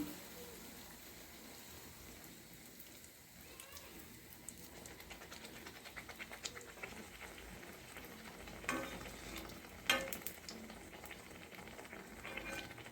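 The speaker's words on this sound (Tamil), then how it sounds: "இந்த மாதிரி எண்ணெய் மேலே ஊற்றினோம்னா பணியாரம் நல்லா மேலேயும் உப்பி வரும்" Chettinad vellai paniyaram batter fries in oil in a pan, giving a faint, steady bubbling hiss across the whole stretch, with a few sharper crackles and clinks toward the end.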